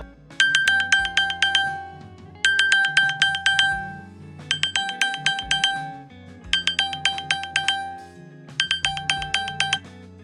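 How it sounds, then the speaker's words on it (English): iPhone ringtone playing close by, five evenly spaced bursts of bright chiming notes repeating every two seconds or so, with no talking. "you can clearly hear the ringing of the phone right next to me"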